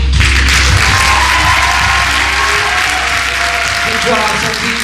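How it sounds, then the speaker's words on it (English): An audience gives performers a loud, sustained round of applause at a live show, thick continuous clapping close by with a low rumble underneath, lasting the whole stretch. "Let's have a big round of applause again for all the performers tonight."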